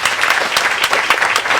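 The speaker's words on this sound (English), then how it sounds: "Let's give them a nice round of applause." An outdoor crowd at the unveiling of a rain garden claps in steady, loud applause, a dense patter of hands from start to finish.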